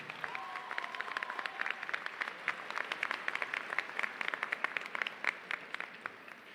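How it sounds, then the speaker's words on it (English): Graduation audience at a high school ceremony applauds steadily, a dense patter of hand claps at moderate distance holding for several seconds with a faint voice briefly over it early on. "Please give those here a round of applause."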